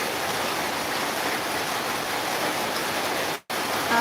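A dense, steady hiss of heavy rain fills the space at close range, broken by one brief dropout of silence near the end before resuming.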